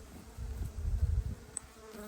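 Honey bees buzzing close by during a beehive colony inspection in autumn, a brief low droning hum that swells and then fades.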